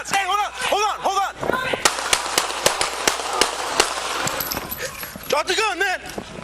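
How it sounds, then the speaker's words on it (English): Gunshots fired during a police encounter, captured on a body camera: a rapid volley of sharp, loud cracks spread over a few seconds, with urgent shouting before and after. "shots fired"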